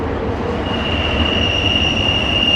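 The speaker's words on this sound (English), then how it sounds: "That's the railroad right there." A train runs along a railroad near a mountain preserve, giving a steady rumbling roar with a high metallic wheel squeal rising partway through.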